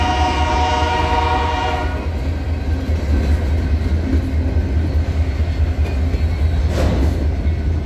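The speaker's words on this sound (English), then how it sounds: "that's the little tiny BNSF local that runs from Dimple to Georgetown Railroad" An empty BNSF local freight train rolls past close by, its horn blaring in a long sustained chord for the first two seconds, then heavy continuous rumbling and rail noise from the passing cars.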